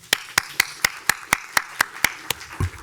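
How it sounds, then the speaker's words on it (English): Sparse applause for the candidates at a Bloomington city council candidate forum, a handful of separate, evenly spaced claps roughly a quarter second apart, close and fairly quiet. "Please join me in a round of applause for all of them."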